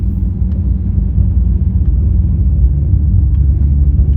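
A manual car's engine pulls steadily in second gear as light throttle is added, a loud, continuous low rumble close by with no speech over it.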